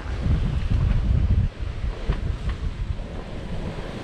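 Ocean waves and gusting wind while a Hallberg Rassy 54 sails from the Bahamas toward Jamaica, a steady broad rush of water and wind buffeting the microphone, heavier for the first second and a half, then easing to a continuous wash.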